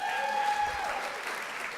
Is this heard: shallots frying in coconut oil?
no